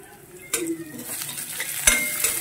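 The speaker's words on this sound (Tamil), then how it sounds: "நம்ம பக்கத்திலேயே ரவையை வறுத்துடலாம்." Semolina roasting in a pan for rava upma, with a soft dry rustle and close scrapes and clinks of a spoon stirring against the metal, and no voices.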